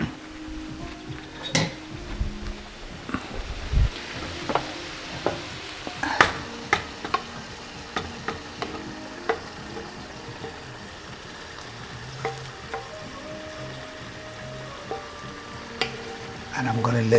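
A cabbage and tomato mixture is stirred and fried in a pan, a low sizzle running underneath sharp spoon-on-pan clinks and scrapes that come in irregular bursts, close by and loudest early and at the very end.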